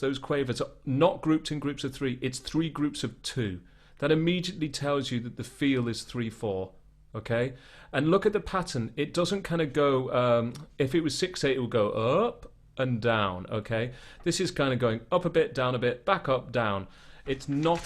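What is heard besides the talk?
No everyday noises stand out.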